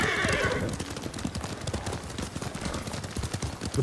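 Horses gallop and neigh in a video game, with a loud whinny up front and then fast, dense hoofbeats that keep drumming on with no pause.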